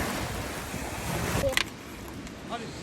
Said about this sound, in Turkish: Arkadaşlar denizde çok dalga var.